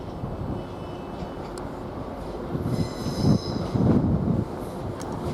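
An LNER train rumbles steadily through Doncaster railway station with clattering wheels and faint high squeals, the roar swelling midway; no voices.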